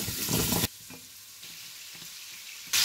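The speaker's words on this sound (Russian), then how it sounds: "Обжаривать овощи я буду в основном в этой сковородке" Vegetables fry in a pan for a beef rib dish, a loud hissing sizzle in short bursts at the start and end, with quieter crackling and stirring sounds between them.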